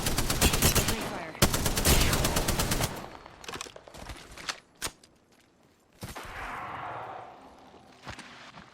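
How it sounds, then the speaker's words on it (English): Automatic weapon fire in the battle royale video game Apex Legends, with loud sustained bursts of rapid shots at the start, then scattered single shots and quieter footsteps and movement. "Opening fire."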